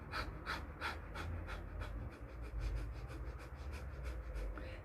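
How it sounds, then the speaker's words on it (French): Rhythmic nasal panting with the mouth closed, like a small dog, as a breathing exercise: a steady run of quick, even breaths repeating about three times per second, close and soft. "une respiration rythmée qui va faire un peu comme un petit chien qui halète"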